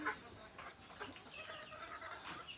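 Chickens, including young birds and a young rooster on a farmyard, cluck softly in a few short, uneven calls that sound faint and somewhat distant against a quiet outdoor background.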